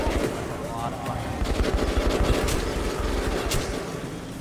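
Rapid automatic gunfire in the first-person shooter Metro Redux during an intense firefight: dense, sustained bursts of shots rattle on loudly with hardly a pause.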